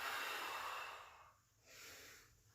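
A person doing a bodyweight core workout breathes out in long, soft, airy exhalations, one sustained breath and then a second shorter one after a pause, close and quiet.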